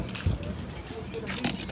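Keys jangle in short metallic bursts, faint to moderate, while people talk nearby.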